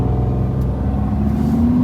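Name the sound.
Lamborghini Huracan Evo V10 engine accelerating in first gear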